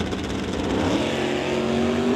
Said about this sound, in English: Launching hard off the start line.